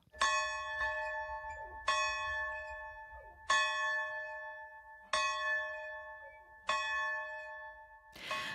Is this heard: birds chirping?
no